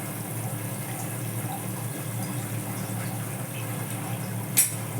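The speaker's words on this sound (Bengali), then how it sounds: "তরকারিগুলো খুব ভালো করে সেদ্ধ হয়ে গেছে এবার আমি মাছগুলোকে ছেড়ে দেবো" Rohu fish pieces slipped into a simmering vegetable curry, a dense, steady bubbling and hissing throughout, with one short sharp clink near the end.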